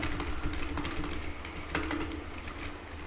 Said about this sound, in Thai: ได้ยินเสียงคีย์บอร์ดปะ